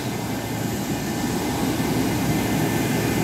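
A McDonnell Douglas MD-82 jet airliner's engines roar steadily at a constant, fairly loud level, a continuous broad rumble and whine as it taxis slowly toward parking stand 6.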